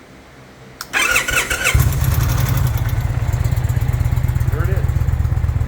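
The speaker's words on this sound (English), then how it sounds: "let's just hear this mundane exhaust system on this motorcycle" Indian Pursuit motorcycle with its stock exhaust starts up close by and settles into a steady, even idle, with a brief remark spoken over the start.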